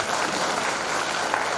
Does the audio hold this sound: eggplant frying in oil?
no